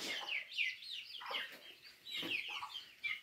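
A hen clucks repeatedly while watching over her chicks on a home farm, with bursts of clucking and chirpy calls close by.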